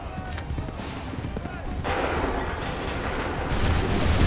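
Musket volley in Assassin's Creed III, a dense crackle of many shots blending into a sustained roar that swells louder toward the end, with battlefield noise and shouted commands underneath.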